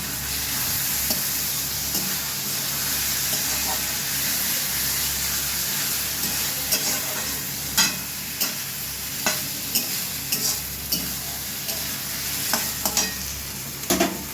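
Soaked gobindobhog rice tipped into a hot frying pan for a fish-head murighonto, hissing in a steady, close sizzle with scraping stirs and small sputtering pops that grow more frequent toward the end.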